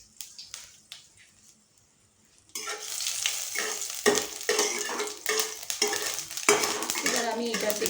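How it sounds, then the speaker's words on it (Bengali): Mustard seeds and two small dried red chillies hit hot oil for a green mango sour curry. After a few quiet stirring taps, a sudden, loud crackling sizzle bursts out and keeps popping. "একটু সর্ষে ফোড়ন দিয়ে দেব, আর দুটো শুকনো লঙ্কা"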